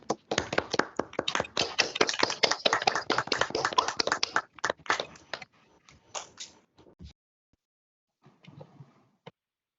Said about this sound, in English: give Chad and Clara a round of applause and just thank you for sharing with